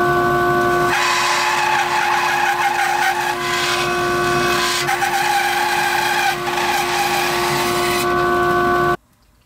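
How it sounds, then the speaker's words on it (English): A saw resaws a wooden board down to about 1/4 inch thickness for a playing card gift box: a steady, loud, close whine with rough cutting noise for about eight seconds, then an abrupt stop. "We're going to resaw it to that dimension."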